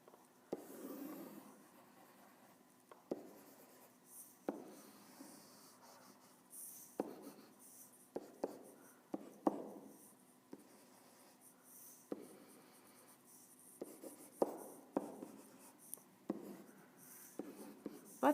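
Marker or chalk strokes on a board during a geometry lesson, a steady series of short scratchy squeaks and rubs, close and fairly quiet, with no talking over them.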